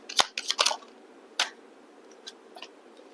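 Tarot cards are shuffled and drop onto a surface, several sharp close-up slaps and flicks in an irregular cluster followed by softer scattered ticks.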